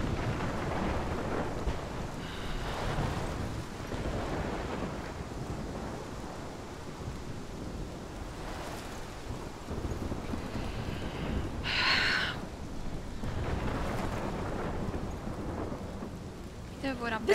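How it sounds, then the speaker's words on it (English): A thunderstorm in the Life is Strange video game: steady heavy rain and wind roar with rolling thunder rumbles and a sharp crack near the middle, continuous and loud, with no voices. "This is my storm."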